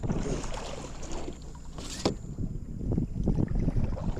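Carbon fiber paddles stroke through the water beside a boat, giving soft irregular splashes and swishes with one sharper splash midway, under light wind noise and no talk.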